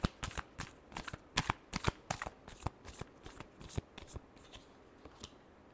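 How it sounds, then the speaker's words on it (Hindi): Tarot cards are shuffled close up in quick, crisp riffling bursts, a rapid uneven patter of soft snaps and flicks repeating for several seconds in a quiet room. "last shuffle"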